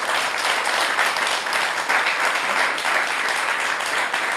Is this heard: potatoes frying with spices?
no